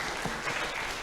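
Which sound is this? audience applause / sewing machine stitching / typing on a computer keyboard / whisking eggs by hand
audience applause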